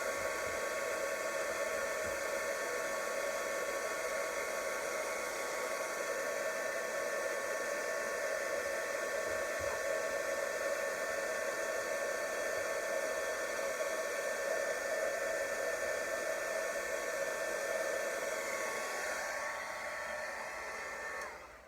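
A heat gun blowing hot air to emboss a card, a steady loud whooshing roar that runs unbroken for about twenty seconds before cutting off, with no talk over it.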